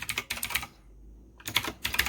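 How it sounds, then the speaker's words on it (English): Rapid clicking of computer keyboard keys as a student types registration details into a web form, two bursts of close, crisp keystrokes separated by a brief pause. "you will start typing in your information"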